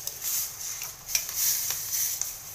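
Native chicken tinola simmers in a covered pot, giving a soft, steady bubbling hiss with scattered faint pops, quiet and close.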